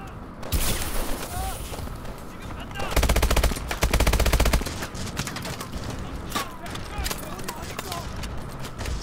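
Rapid automatic gunfire bursts in a Call of Duty Advanced Warfare firefight, loud and repeated, with a heavier sustained burst midway, while players talk over the shooting.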